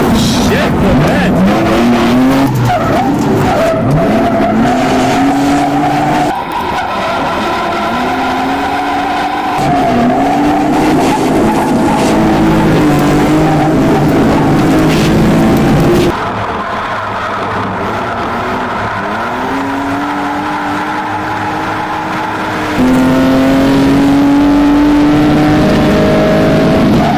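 A drift car at Crail, Scotland, is thrown through corners at speed using the handbrake. The engine roars loud and close, with long squealing tyre skids and revving that rises and falls across several passes.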